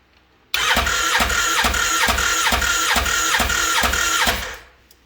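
A rebuilt Turbo Wildcat ATV engine cranks over in a steady, evenly pulsing rhythm for about four seconds, loud and close, then winds down and falls quiet.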